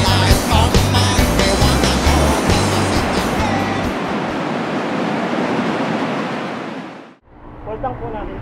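Loud, roaring surf at Casiguran, Aurora, with continuous crashing waves and heavy wind rumble close to the microphone, dipping briefly near the end before resuming.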